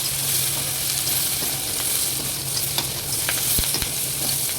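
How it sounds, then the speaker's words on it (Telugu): Peanuts and half a spoon of turmeric are stirred in a hot pan of frying oil, with a steady sizzle and sharp scraping strokes of the spoon, recorded close with no talking. "ఇప్పుడు పల్లీలు వేసుకుంటున్నాను అండి. పసుపు కూడా వేసుకుంటున్నాను, సగం చెంచా. కొంచెం బాగా కలుపుకోవాలి."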